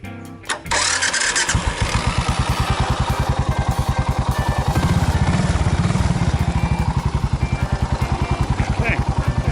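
A Suzuki Savage LS 650 motorcycle, carbureted with the choke on, cranks and starts, then settles into a loud, close, rapidly thumping single-cylinder idle with a steady pulsing rhythm, a voice talking over it.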